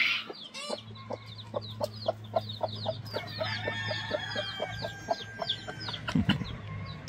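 A wild hen clucks steadily to her chicks in a hidden nest in tall grass, soft rhythmic clucks repeating close by while the chicks' high peeps chirp throughout, with no voices.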